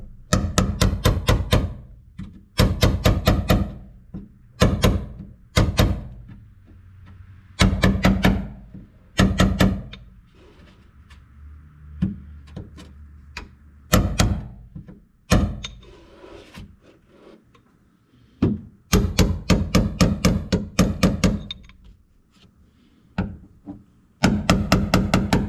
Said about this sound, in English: I'm going to take a little hammer and a punch and kind of knock that back in flat